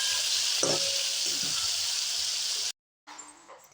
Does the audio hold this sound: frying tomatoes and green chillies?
yes